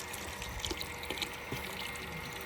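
Water running while hands are washed at home, a faint steady splashing hiss with small drips and clinks, heard alone without talking.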